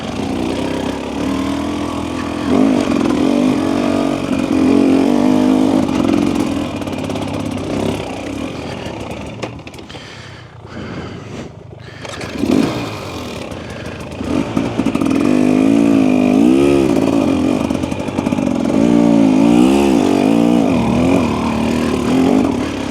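A 2025 Husqvarna TE300 dirt bike engine lugs and revs on slippery ground, its low warbling note surging and fading with a brief dip midway; loud, close and continuous, with no talk.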